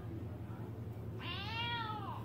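One drawn-out meow from a cat rings out midway, close and bright, sliding downward at the end above a constant low hum.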